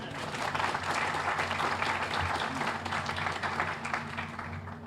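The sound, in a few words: audience applause at ribbon cutting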